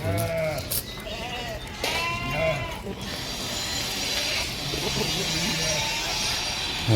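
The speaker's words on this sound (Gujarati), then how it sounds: "જોકમાં બકરા પહેલાં આવી ગયા હતા" Several goats bleating in wavering cries near and far over a constant background hiss, the calls thinning out midway.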